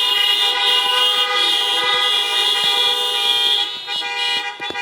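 Several car horns honk together at a political fundraiser in Story County, Iowa, in a sustained, overlapping blare, loud and steady, with a few shorter toots trailing off at the end.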